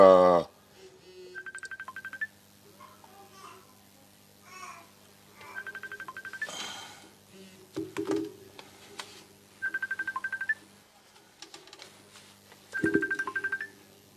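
Touch-tone telephone keypad dialing a number, heard as four separate bursts of rapid beeping tones spaced a few seconds apart, with faint voices murmuring in the background between them.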